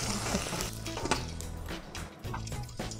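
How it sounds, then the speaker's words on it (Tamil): Mustard seeds splutter and pop in hot oil in a pan, a dense crackling sizzle that runs continuously with faint stirring, heard close up with no talking. "இங்கேயும் கடுகு பொரிஞ்சிருச்சு,"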